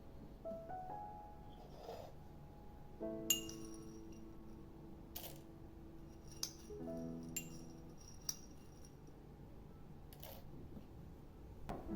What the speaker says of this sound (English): Next, we're going to add cloves, the same ones you use in the kitchen.